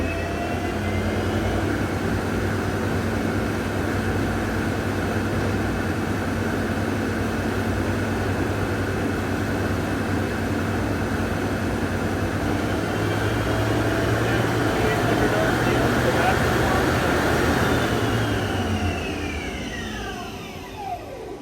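A 2010 JOHNFORD SL-500A CNC lathe turning center runs its spindle at 2,000 RPM, producing a loud, steady whine and hum with a constant drone that winds down slightly near the end.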